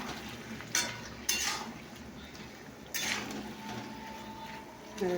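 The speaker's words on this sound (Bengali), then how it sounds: "তো এবার আমি আনাজগুলোকে দেবো ঢেলে" Vegetables are poured into a pan of spices frying on the stove, with a soft ongoing sizzle and a few sharp clinks and scrapes of utensils, fairly quiet and close.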